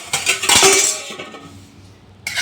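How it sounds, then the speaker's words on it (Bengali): Metal lid lifted off a cooking pot with a close, bright clank and scrape, then a brief quiet before another faint clink. "আমি 5 মিনিট পরে এই ঢাকাটা খুলে দিলাম।"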